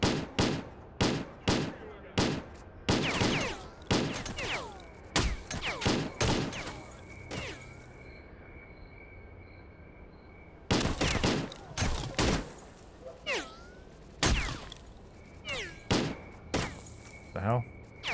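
Single-fire gunshots in STALKER: Clear Sky, loud close cracks fired one by one in a fairly steady rhythm. A quiet pause in the middle is followed by more shots.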